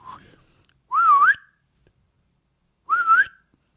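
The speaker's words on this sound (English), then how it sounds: "Should I whistle?" A person whistles two short, wavering notes with a pause between them, clear and close against near silence.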